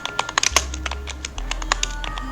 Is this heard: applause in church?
no